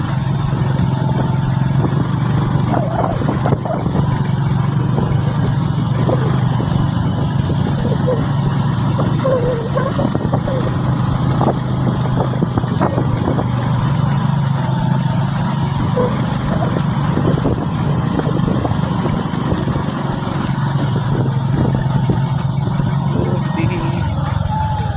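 Several motorcycles idle and rumble in an outdoor neighborhood setting, a steady low engine drone running throughout with a dog barking intermittently and faint voices in the background.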